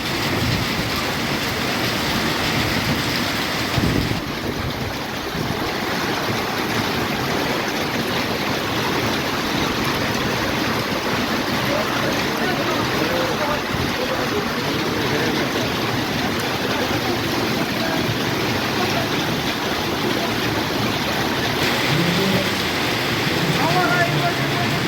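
Hail mixed with rain falling outdoors in Shubarsu, a steady dense hiss and patter that runs unbroken throughout, with a person talking over it at times.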